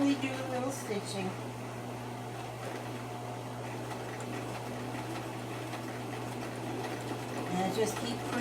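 A sewing machine stitches slowly over a pushed-up fabric wrinkle, a steady low mechanical hum with faint ticking running continuously beneath a person talking.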